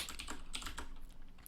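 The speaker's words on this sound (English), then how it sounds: "My keyboard's just super loud, and so that's why you guys can hear all of my clicking" Loud computer keyboard typing, with rapid, dense key clicks clattering continuously and close up at a steady level.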